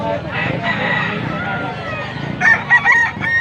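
A rooster crows close by, a loud drawn-out call near the end, after a stretch of background clucking and noise.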